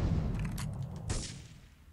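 Gunfire in the video game Grand Theft Auto 3, heard as a few muffled, thudding shots over a low rumbling game backdrop, with one sharper burst near the middle.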